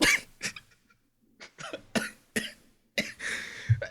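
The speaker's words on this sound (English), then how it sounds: "I had to cough for a second" Several sharp, close coughs come in short separated bursts against near silence, with a throat-clearing quality between them.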